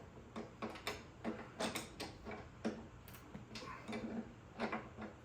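Valve adjusters being tightened on a Harley WLA engine, with faint, close, irregular metallic clicks and ticks from the wrench and adjusters spread across a few seconds in a quiet room.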